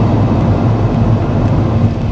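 A Mercedes B-Class 180 with a 7G-DCT dual-clutch gearbox accelerates gently, giving a loud, steady low engine drone heard close up with no talking.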